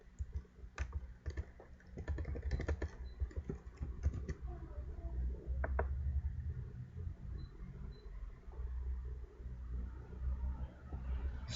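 Computer keyboard keys typed in short irregular bursts while entering a password, close and clear over a low background rumble, with no talking.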